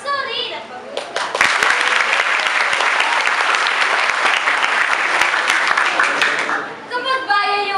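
Dense audience applause fills a school auditorium during a Balagtasan verse debate at an elementary school, swelling to a loud steady roar for several seconds before tapering, with brief voices at the start and end.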